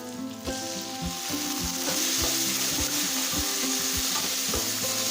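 Green chilies and a tomato sauté in a hot pan for hotel-style tiffin sambar, a steady loud sizzle with repeated stirring scrapes every half second or so, close up and with no talk.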